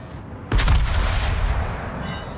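Naval ship cannons boom in a naval combat video game, a single heavy blast that rolls out into a long fading rumble.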